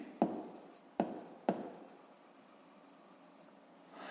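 Digits written by hand for a fifth-grade math exercise: three crisp, close strokes in quick succession, then a quiet stretch with faint scratching and a soft rustle at the end, no voices.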